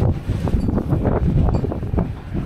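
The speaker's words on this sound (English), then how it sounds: "You hear that wind? You hear that fucking wind?" Wind gusts roughly across the microphone at a seaport in Hakodate, Japan, rumbling in uneven, pulsing bursts for a couple of seconds. No voices are heard.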